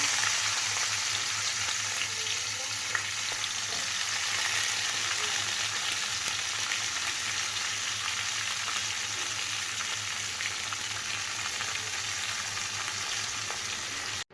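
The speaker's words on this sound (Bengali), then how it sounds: "এবার বরবটিগুলো, কেটে রাখা বরবটিগুলো তেলে দিয়ে দিই" Cut long beans (borboti) fry in hot oil with a loud, continuous, even sizzle that stays close and steady throughout, with no voices.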